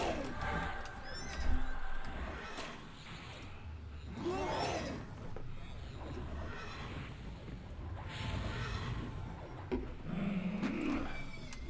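A horse in the game Everquest whinnies with a wavering neigh, repeated a few times amid game background sounds and faint low noise.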